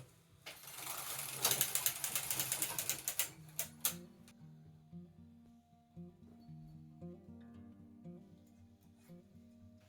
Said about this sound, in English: And I'm going to run my carriage along all these selected needles.